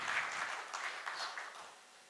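An audience claps to welcome a speaker on stage, a dense, steady patter of many hands that fades away over about two seconds, heard from some distance.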